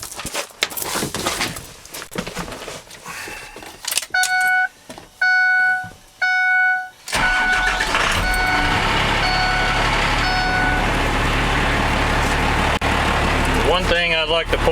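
A 12-valve Cummins diesel swapped into a Ford F450 cranks with a few interrupted electronic beeps, then catches and settles into a loud, steady, rumbling idle close by, with faint talk early on.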